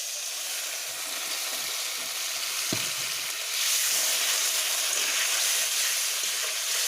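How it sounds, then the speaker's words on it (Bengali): A fried spice paste sizzles steadily in a pan. Partway through, a brief knock sounds, then water goes in and the hiss swells louder and brighter, turning into a rushing, steamy sizzle. "এবার আমি জল দিয়ে দেব অল্প করে"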